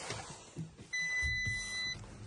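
After some low rumbling and handling noise, a steady electronic chime tone sounds for about a second inside the quiet cabin of an Audi electric car being started.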